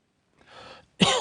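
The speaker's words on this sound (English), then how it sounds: "You've got a nasty cough." A single nearby cough: a soft breathy lead-in followed by a sharper, louder burst.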